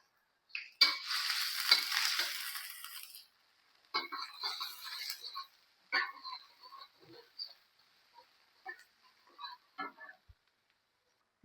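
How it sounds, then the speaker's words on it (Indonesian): Shallots fry in a pan for tomato soup, first in a loud steady sizzle and then in broken bursts of sizzling and stirring, with no talk. "kita goreng sampai sedikit layu."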